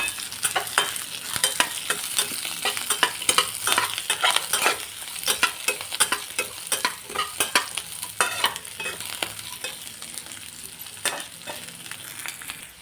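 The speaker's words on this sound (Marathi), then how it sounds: "कांदा तळायला थोडंसं तेल टाकलं मी" Onion sizzling and frying in a little oil with grated coconut, ginger and curry leaves, stirred steadily in a pan with frequent scraping clicks of a spoon over a continuous bright crackle.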